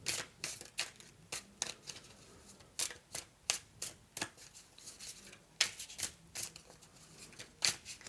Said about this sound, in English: I'm going to shuffle this up